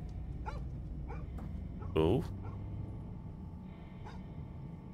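A dog in the horror game Fears to Fathom – Home Alone gives a short, loud whimpering yelp partway through, standing out over a steady low in-game hum, with a brief voice nearby.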